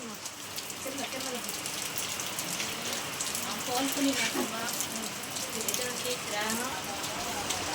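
Rain falls steadily outside, a continuous broadband patter heard from indoors while a large pot of dum biryani is being cooked, with a voice talking over it at times.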